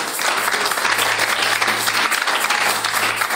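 A church congregation applauds during a service in a loud, steady burst of many hands clapping together, with a faint low hum underneath.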